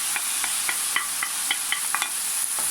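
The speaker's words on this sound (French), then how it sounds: "Et là on fait revenir la viande. On la fait colorer un petit peu" Meat browning with mushrooms in a pan, sizzling steadily while a utensil scrapes and stirs in a series of short, sharp clicks. It sounds close and is heard alone.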